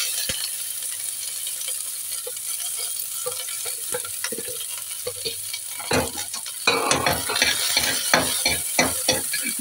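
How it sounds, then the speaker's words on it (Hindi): Onions and green chillies hit hot ghee with toasted cumin and start frying, the close, crackling sizzle jumping louder partway through and broken by spoon-stirring clatter. "इसमें हमने प्याज और हरी मिर्च डाल देनी है।"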